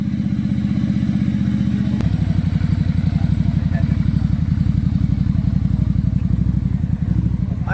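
Motorcycle engine idling and running steadily during a test ride of Benelli, SYM, Keeway or similar bikes, with a continuous low throbbing putter and a brief clunk near the start, loud and close.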